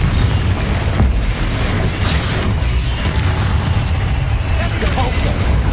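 Bombarda blasting spell in Hogwarts Legacy, a loud continuous booming rumble with crashing debris that stays heavy and close for several seconds.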